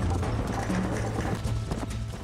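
Horse hooves gallop in the game Red Dead Redemption, a rapid, loud clip-clop rhythm of pounding hoofbeats continuing throughout, with a faint snort.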